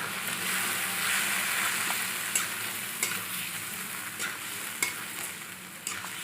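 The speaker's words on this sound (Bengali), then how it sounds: "হলুদ গুঁড়ো এবং এটাকে ভালো করে কষিয়ে নেব।" Turmeric powder masala sautéing in oil in a pan for a banana kofta curry gives a steady, close hiss, with occasional sharp spatula taps and scrapes against the pan.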